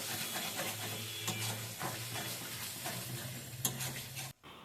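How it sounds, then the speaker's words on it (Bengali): Chicken curry with green peas sizzles in a wok while being stirred, with a continuous frying hiss broken by scraping and clacking of the spatula against the pan, close and without talk, cutting off abruptly near the end. "আজকে চিকেনটা আমি কষা কষাই করব"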